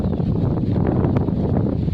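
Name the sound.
wind blowing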